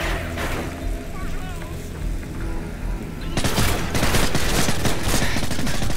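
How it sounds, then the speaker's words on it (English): Automatic gunfire from Price, an allied soldier in the Call of Duty: Modern Warfare 3 mission Stronghold on PC, bursts in loudly partway through and continues as dense, rapid shots over other battle noise and a voice. "Oh, wow, he finally shoots."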